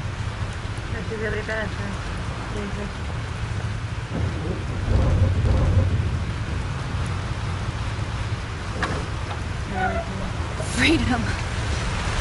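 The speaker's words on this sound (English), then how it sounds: "This storm's real." A steady, loud downpour hisses through a thunderstorm in the video game Life Is Strange, with deep thunder rumbling and swelling midway and again near the end, and faint voice-like murmurs now and then.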